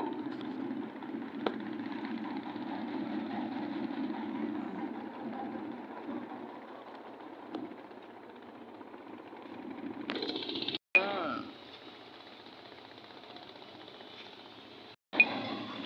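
River launches and trawlers run their engines at the Barishal river port, a steady low droning rumble that holds throughout, with two brief dropouts near the end.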